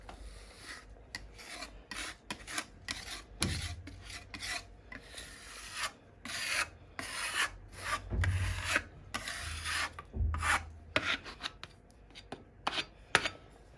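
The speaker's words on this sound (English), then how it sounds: "Put a bit of sandpaper and rub it down." Dried wall filler being hand-sanded with sandpaper, giving close, dry rasping strokes in irregular bursts with short pauses between them, and no voices.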